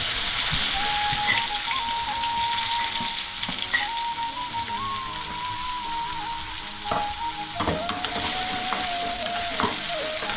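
Chopped onion hits hot oil already holding cumin, ginger and garlic, setting off a loud, steady, crackling sizzle that runs unbroken throughout, with scattered spatters and light stirring on top.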